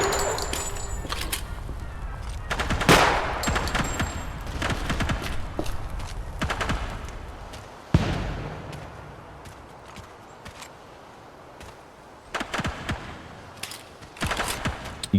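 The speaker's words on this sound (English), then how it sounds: "the burst fire on this gun shoots very quickly" Quick bursts of 5.56 rifle fire in a video game, several sharp clustered volleys scattered across the span with quieter gaps and faint shuffling between them.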